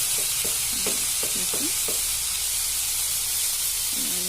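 Potatoes, with a little salt, sizzle steadily in a hot pan while a spoon scrapes and stirs them in several quick strokes near the start, then the frying continues as a constant hiss.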